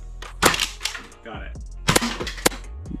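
A Worker Cheetah Nerf blaster fires rival foam rounds in a few sharp, close pops with snappy mechanical clacks between them, and brief voices nearby.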